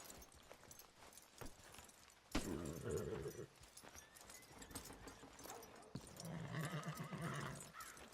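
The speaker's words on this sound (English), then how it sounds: "Are you gonna mount that new horse of yours or not?" A horse in the video game Red Dead Redemption 2 clip-clops and whinnies nearby, with two neighs standing out over the hoofbeats.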